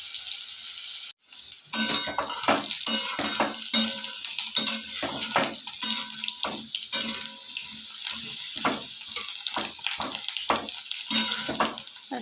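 Potato pieces fry in a pan for a Bengali-style spinach dish, a constant sizzle broken by repeated scraping and clinking stirs of a utensil against the pan, close and steady with no talk.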